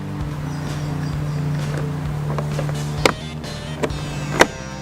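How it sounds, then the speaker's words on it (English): A steady low hum fills the background while a few sharp plastic clicks snap through as a car bulb holder clips into place, the last one the loudest. "To ensure it clips in, you will hear a clipping sound"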